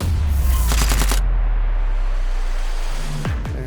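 A loud machine-gun style sound effect for a Warhammer shooting phase, a quick rapid burst of shots followed by a sustained rumbling tail that fades, with a few clicks at the end.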